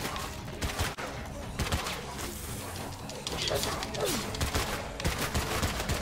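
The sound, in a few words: gunshots in a zombie video game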